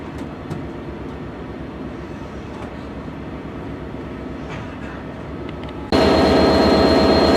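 A train pulls away from Hereford station toward Newport, a steady rumbling run with faint clicks, swelling abruptly louder near the end as the engine noise builds.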